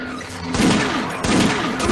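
Bursts of gunfire in the VR shooter Doom 3, two loud rapid volleys about a second apart, with a booming, echoing tail.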